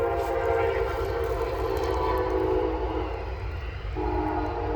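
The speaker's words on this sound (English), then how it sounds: "And sorry for the train noise." A train passing nearby rumbles steadily with low rail noise, while a horn-like tone holds through most of the moment and shifts near the end.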